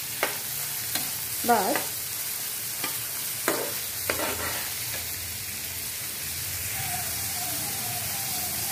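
Pasta ingredients fry lightly in a pan as they are stirred: a continuous close sizzle broken by several scraping strokes, with a brief spoken word near the start.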